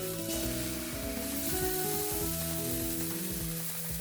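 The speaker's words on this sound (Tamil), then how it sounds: "இது வந்து நாங்கள் நெய் விட்டு சுடுவோம்." Dosa cooking on a hot pan with ghee, a soft, steady sizzle with light scraping touches, fairly quiet and alone.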